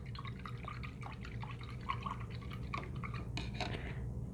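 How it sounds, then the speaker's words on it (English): Water dripping and trickling quietly as an acrylic paintbrush is rinsed, with soft irregular splashes and small clinks from a water container, close and faint. "I'm going to rinse that out of my brush."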